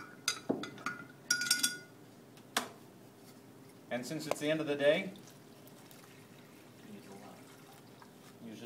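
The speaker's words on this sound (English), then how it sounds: "we're going to pour some of this starch" Starch solution is poured into a plastic bag in a classroom diffusion demonstration, heard as a brief close gurgling pour after some clinks and handling noises, while a teacher speaks at the start.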